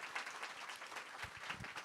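A brief burst of audience applause at a book talk with an author, a short stretch of moderately dense clapping from a small crowd with no voices over it.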